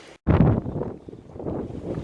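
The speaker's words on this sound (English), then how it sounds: "Pretty windy." Strong outdoor wind buffets the microphone in a loud, rumbling gust right after a brief dropout, then keeps roaring in uneven surges.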